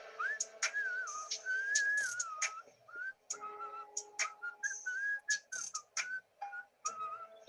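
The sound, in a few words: person whistling, played on a speaker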